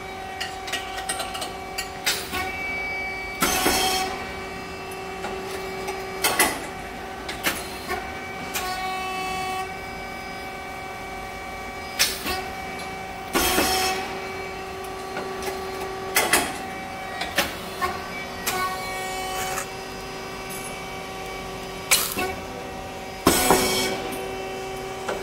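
A SYP5310T rice cake machine with hydraulic oil and triangle-shaped coated moulds running a test, sounding as a steady mechanical whine with tonal hum, broken by repeated sharp hissing bursts and clunks at irregular intervals, close and alone.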